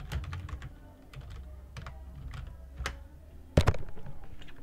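Typing on a computer keyboard gives scattered, fairly faint key clicks in an irregular rhythm, ending with a sharper, louder keystroke near the end.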